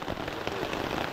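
Rain falling in a dense, steady wash of patter on surfaces, loud and continuous throughout with no voices.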